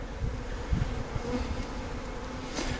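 Honeybees buzzing in an opened hive, a dense close hum of many insects with brief louder passes near the microphone, no talking.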